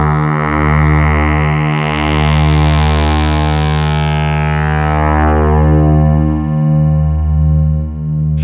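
Behringer TD3-MO synth with high filter resonance run through guitar pedals, a loud sustained buzzing tone whose resonant sweep rises and falls, with steady low pulses and a continuous drone throughout.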